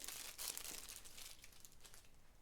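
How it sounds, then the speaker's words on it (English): Protective plastic film is peeled off a hood scoop light bar for a Yamaha RMAX 1000, giving a faint, close crinkling and tearing rustle that continues steadily for a couple of seconds. "I'll go ahead and peel this plastic off."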